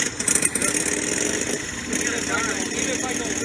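A 250cc Chinese motorcycle engine idles steadily on its factory Taiwan carburetor, a continuous mid-pitched running drone close by, with a brief uneven flutter near the start.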